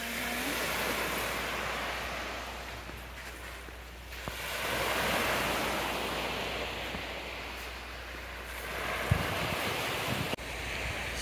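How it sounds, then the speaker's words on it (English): Waves break and wash up on a beach at Dry Tortugas National Park, heard as a continuous broad roar of surf that swells and eases, with gusty wind buffeting the microphone and a couple of brief knocks near the end. "this is a really nice beach. This is what? This is the side we can swim on"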